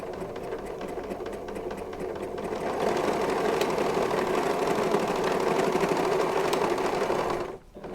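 An overlocker sewing machine runs in a continuous fast mechanical whir, growing slightly louder partway through before cutting off just before the end.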